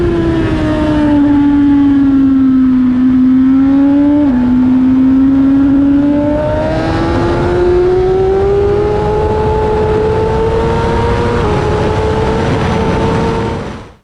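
A powerful motorcycle accelerates hard on a race track with early upshifts, the engine note climbing steadily, dropping briefly at each quick gear change, then rising again, loud and close throughout.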